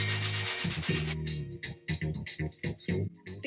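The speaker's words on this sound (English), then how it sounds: "When sanding or working with fiberglass, using the necessary safety equipment is important" Fiberglass on a dinged surfboard being sanded by hand, a steady broadband rubbing that settles into short, regular back-and-forth strokes, close and fairly quiet with no voices.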